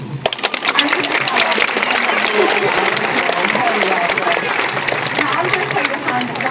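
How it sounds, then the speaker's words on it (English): An outdoor crowd at a sea lion show in a safari park claps loudly and steadily, opening with a few sharp individual claps before building into sustained applause, with voices mixed in. "They're going to give you a huge round of applause, and everyone's going to go wild."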